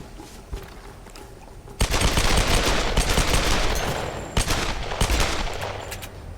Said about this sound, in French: toutes les balles que j'ai mis dans le vide